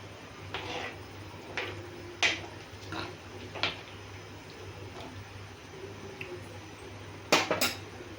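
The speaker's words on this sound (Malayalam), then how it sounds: "ഇനി അതൊന്ന് ഇളക്കി യോജിപ്പിച്ചിട്ട് ബാക്കി പരിപാടി." Fish curry stirred in a clay pot with a metal spoon, scattered scraping clinks and a few sharper knocks against the pot, fairly quiet, no talk.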